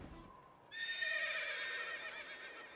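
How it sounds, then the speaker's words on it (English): A single horse whinnies in Princess Peach: ShowTime! during a cowgirl stage at dusk. The neigh is bright and fairly close, rising after a quiet start and trailing off, with no talk over it. "Ah, thank goodness, my horse."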